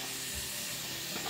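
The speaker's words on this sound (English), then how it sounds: "I'm gonna make some bacon." Bacon frying in a home kitchen, a steady close sizzle and hiss with no talking.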